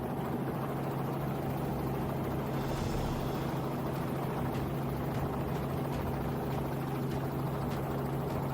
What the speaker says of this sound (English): Hunting wild boar from a helicopter is a difficult challenge for hunters.